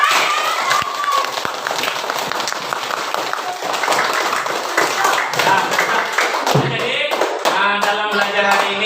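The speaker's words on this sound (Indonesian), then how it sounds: "Nah, tepuk tangan untuk kita semua." A class of schoolchildren claps together in a classroom, a brisk, fairly close burst of many hands, followed by children's voices calling out.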